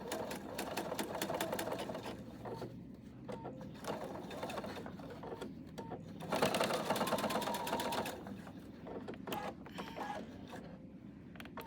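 A sewing machine stitches in steady mechanical bursts, stopping and restarting several times at close range with brief pauses between runs, and no talking over it.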